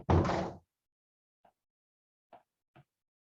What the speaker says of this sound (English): Sorry if you heard the door slam there.